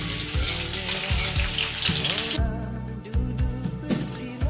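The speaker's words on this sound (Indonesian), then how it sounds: "Kemudian goreng." Soaked, rinsed anchovies fry in a pan with a steady, loud sizzle and crackle, bursts of spattering rising and falling throughout with no talking.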